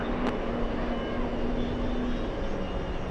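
A JetBlue Embraer E190 jet flying in, heard as a steady, fairly loud broadband engine roar with a faint hum running throughout.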